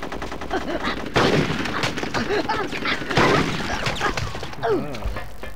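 Sniper gunfire in Conker's Bad Fur Day: repeated sharp shots and crashes in dense bursts, loud and near, mixed with game voices and a person talking and laughing over them.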